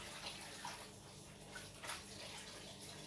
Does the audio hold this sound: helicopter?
no